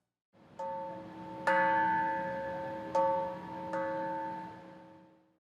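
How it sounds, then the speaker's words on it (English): The Peace Bell in Thunder Bay rings three times at its annual ceremony, each clear strike followed by a long, shimmering decay that overlaps the next, with a softer tap at the start. "Both cities ring their bells at the same time of day"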